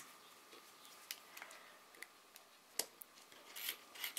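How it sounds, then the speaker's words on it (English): Washi tape being cut in a Big Shot die-cutting machine, heard as faint scattered clicks, ticks and snips against a quiet, hissy background, with a sharper crack near the end. "go cut it with my Big Shot"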